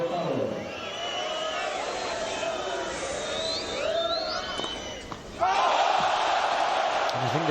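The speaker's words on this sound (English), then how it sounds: "I think the crowd now really starting to play their part too" Crowd noise at the Buenos Aires 2006 tennis semifinal between two players, with a steady roar, whistles and shouts from spectators under a commentator's voice, rising louder near the end.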